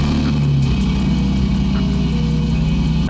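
Truck engine idling steadily and loud, a low continuous rumble with a faint rhythmic ticking, starting up before pulling away.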